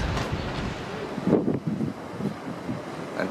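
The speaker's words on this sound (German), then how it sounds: "Es ist doch ein bisschen windig." Steady wind rushing and buffeting against the microphone aboard a cruise ship near Valletta, a broad continuous roar with gusty swells, heard alone without voices.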